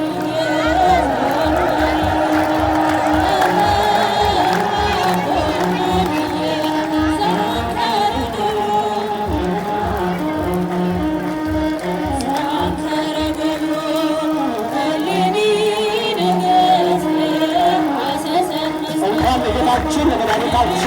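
A large church crowd at a Meskel (Feast of the Cross) celebration ululates and cheers, a loud, continuous wall of voices with sustained trilling tones and bursts of movement running through the whole stretch.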